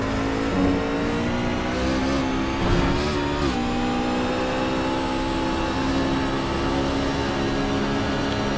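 An onboard race car engine, car 18 on lap 39 at Watkins Glen, drones loud and close at high revs, with brief pitch dips and rises as the driver shifts through the corners.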